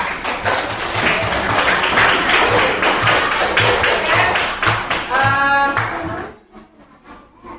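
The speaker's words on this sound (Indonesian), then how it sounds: "Tepuk tangan untuk kita." A classroom of pupils clapping together in a regular rhythmic beat with thuds and taps mixed in, loud and close; the clapping stops near the end, leaving brief quieter noise.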